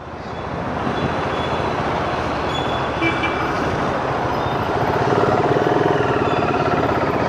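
A BSA Goldstar 650cc motorcycle engine drones steadily while riding, a loud continuous rumble mixed with wind noise that swells slightly toward the end, with no talking.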